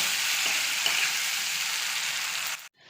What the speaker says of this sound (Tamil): இப்படியே கடைசி வரைக்கும் வதக்கி நல்லா கிறிஸ்பியாக எடுக்க போகிறோம்